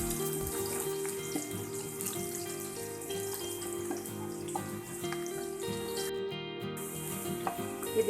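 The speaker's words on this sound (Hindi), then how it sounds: "अगर गर्म घी में आप प्याज ऐड कर सकते हैं" Onions frying in hot ghee give a steady, loud sizzling hiss that holds for the whole stretch, with tonal background music running underneath.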